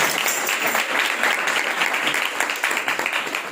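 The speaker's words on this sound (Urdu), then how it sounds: "تالیوں بجا سکتے ہیں خدا کے لیے۔" A church congregation at a Sunday service breaks into loud, dense applause, a steady rapid clatter of many hands close by that tapers slightly at the end.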